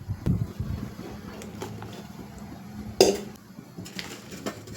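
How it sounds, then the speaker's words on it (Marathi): A metal plate is set over a pot of water and greased with oil for steaming sabudana and bhagar vadi, with scattered light clinks and scrapes of metal, one louder knock partway through. "आता हे ताट मी ठेवणार आहे आणि ताटाला आपल्याला व्यवस्थित असं तेल लावून घ्यायचंय"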